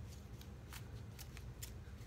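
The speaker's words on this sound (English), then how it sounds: "And then we're supposed to shuffle another 7 times." Tarot cards are shuffled by hand up close, a soft continuous riffling with several crisp snaps and flutters as the deck is worked, with no talking.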